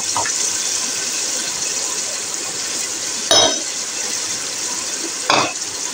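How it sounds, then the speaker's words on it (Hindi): Tomatoes with a paste of garlic, ginger and green chili fry in a pan with a steady close sizzle and hiss, broken twice by short sharp clinks of a spoon against the pan. "इन सबको फ्राई करती हूँ अच्छे तरीके से"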